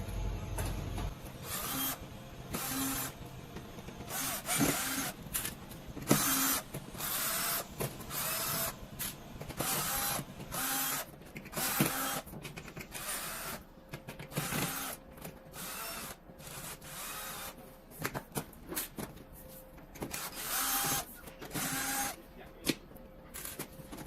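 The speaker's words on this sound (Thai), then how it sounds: "จากที่เราขันน็อตเสร็จแล้วนะครับ" Repeated short whirring bursts of a power screwdriver backing out the 13 screws on the rear cover of a water pump unit from a 45F tank, each burst separated by brief pauses, fairly close with steady background noise.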